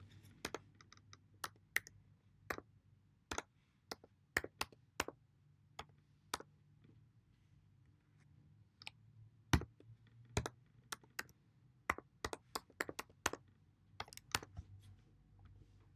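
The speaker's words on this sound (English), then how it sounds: "let me retype the password again" Keys on a computer keyboard clack in short irregular bursts as a password is typed, close and crisp with pauses between runs of keystrokes, no voices.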